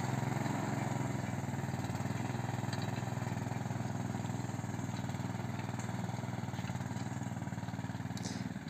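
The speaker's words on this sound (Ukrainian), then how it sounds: "Знайомий якийсь мотоблок, десь я його вже такий бачив." Engine of a walk-behind tractor digging potatoes in a field, running steadily with a continuous loud putter throughout and no talk.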